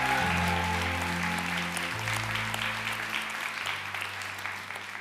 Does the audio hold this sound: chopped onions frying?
no